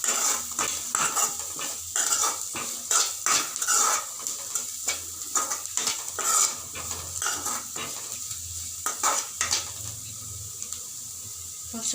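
Vegetables being stirred as they fry in a pan for veg cutlets, with a spoon repeatedly scraping and clattering against the metal over a steady sizzle, close up and with no talking.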